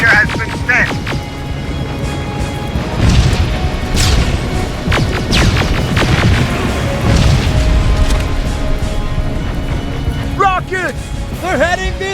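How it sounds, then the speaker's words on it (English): Rocket explosions in the video game Terminator Resistance: heavy booms and crashing impacts roll through a loud battle mix, with shouted voices and music layered over the blasts. "Rockets! They're heading this way!"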